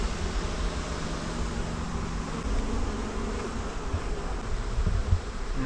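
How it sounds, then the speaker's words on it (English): Bees fan the air inside a box, a continuous close buzzing hum with a steady drone and slight flutters, heard alone. "Hear how much noise there is in that box? That's bees fanning the air"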